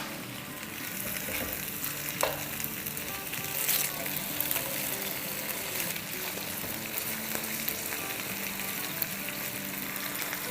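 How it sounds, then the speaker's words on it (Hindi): Potatoes frying in a pan over medium-low heat, a steady soft sizzle with occasional scraping and stirring as the pieces are turned, fairly quiet and unbroken, no talking. "तो बस अब इसे हम मीडियम लो पर कुक करेंगे अराउंड 10 से 12 मिनट, और ये आलू जो है वो उलटते पुलटते रहेंगे।"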